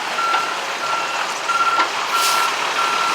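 A salt spreader truck backs up, its reversing alarm beeping in a regular repeating pattern over a steady engine rumble, fairly loud and close with no talking.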